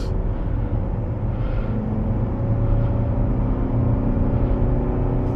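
Cabin drone of a 2025 Mazda CX-50 2.5 S Select AWD compact SUV cruising at 75 mph on a highway: a steady low rumble with road and tire noise, constant and unbroken throughout.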